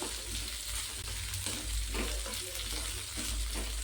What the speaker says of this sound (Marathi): तर हे छान असं परतून घ्यायचं